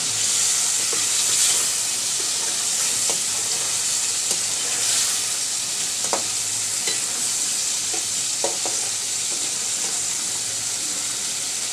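Rohu fish sautéing in a pan, giving a steady close sizzle and hiss throughout, with occasional light stirring clicks and scrapes and no talking.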